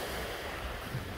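Ocean waves washing against a windy shore at Two Harbors on Catalina Island, a faint, steady wash of surf blended with low rumbling wind noise and no voices.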